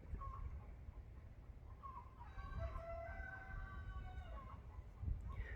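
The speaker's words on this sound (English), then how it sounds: "The neighbor's rooster's going crazy." A neighbor's rooster crows in a drawn-out, wavering call from a moderate distance, rising out of steady background noise partway through with no talking over it.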